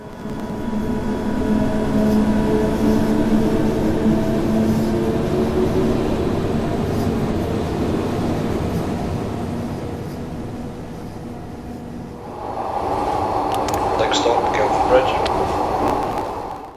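Glasgow subway train running in the video game Train Simulator, a steady loud rumble and whine of wheels and motors that shifts to a higher-pitched tone near the end, with no voices.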